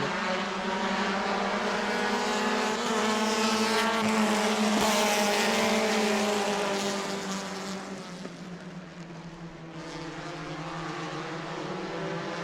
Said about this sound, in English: this hungry field of drivers is going to lap by the red 75 at Greg Pass.